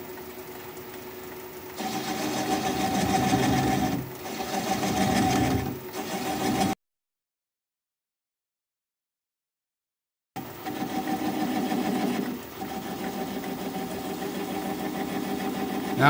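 A wood lathe spinning a pedestal bowl at about 400 RPM, giving a steady mechanical hum and whir with rhythmic rises where a bowl gouge cuts, interrupted by a few seconds of total silence before resuming, close with no talking.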